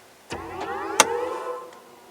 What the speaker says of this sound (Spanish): Cuando arrancas el motor suena esa especie de acorde